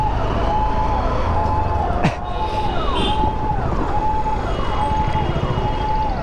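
An ambulance siren wails steadily and loudly in heavy traffic near a municipal gate and a bus-stand traffic signal, its repeating rising and falling tone continuous over dense road rumble.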